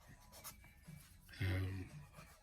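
Graphite pencil strokes scratch across paper while shading a drawing of a Prague scene. The strokes are quiet, short and uneven, with a brief louder low thump partway through.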